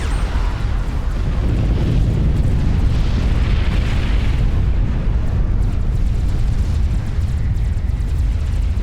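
Tactical missile launchers firing in Supreme Commander: Forged Alliance, a dense, continuous rumble of booming launches and impacts that stays loud and heavy across the whole stretch.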